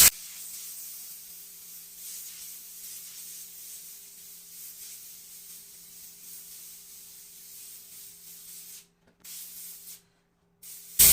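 An airbrush sprays paint for bubble lettering, giving a steady close hiss that runs almost unbroken, with two short pauses near the end as the trigger is released.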